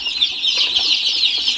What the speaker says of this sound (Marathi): हे आज 7 दिवसाचा आहे पिल्ले.